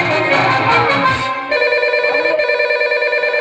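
A telephone rings during a Gajan folk theatre performance. Music and voices fill the first second or so, then a steady electronic ringing tone repeats loudly and up close.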